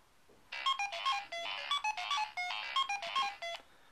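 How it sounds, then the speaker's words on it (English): A phone rings through a remote find-my-phone feature, a clear electronic ringtone that plays a repeating melodic pattern of bright beeps for about three seconds, moderately loud and heard alone. "Makes the phone ring."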